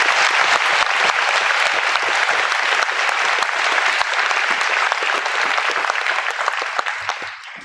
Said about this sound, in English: another great round of applause for our veterans